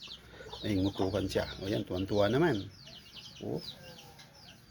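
A chicken clucking and pecking close by, a burst of loud throaty clucks followed by quieter scattered sounds, with a person briefly speaking.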